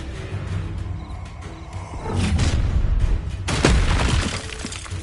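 Fiery blast of the Incendio spell in the video game Hogwarts Legacy: a rumbling, roaring burst swells up, then a second sharper crackling flare hits, layered over steady game ambience with no talk.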